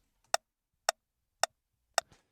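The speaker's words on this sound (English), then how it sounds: "the first thing that I have here is a sidechain click" Four crisp, evenly spaced rim-shot clicks from a sidechain sample in Ableton, dry and isolated against silence, with a faint trailing tick after the last hit.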